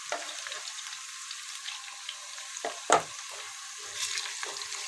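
Green onions with their roots frying together in a pan, a soft close sizzle broken by a few brief scraping stirs and one sharp knock of a utensil, no talking.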